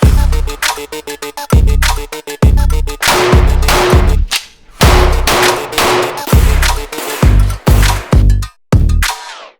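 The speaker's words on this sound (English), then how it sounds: "Now that I've gotten to shoot the PDP F-Series with the C&H duty on there" A Walther PDP F-Series pistol fitted with a C&H DUTY optic fires a rapid run of loud, close gunshots in quick bursts, some sharp and clustered, with brief gaps between strings.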